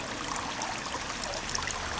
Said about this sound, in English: Oh, it's water.